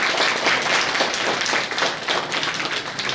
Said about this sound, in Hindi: एक बार जोरदार ताली होता है।